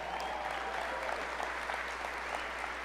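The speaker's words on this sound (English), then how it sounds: "Yep, you can clap." A convention audience applauds in a steady, dense wash of clapping that sounds somewhat distant and continues evenly throughout.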